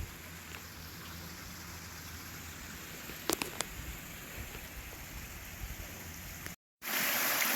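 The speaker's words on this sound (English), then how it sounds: "from the top of a waterfall, standing on a cliff just above it" Waterfall flowing, heard from a cliff top just above it on a trail: a steady, close, rain-like rush of falling water that continues alone throughout, with a few faint clicks along the way.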